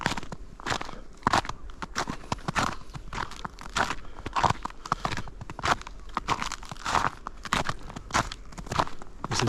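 Steady footsteps crunch through fresh snow during a rare snowstorm in Louisiana, each step a close, crisp crackle repeating in an even walking rhythm with no talk.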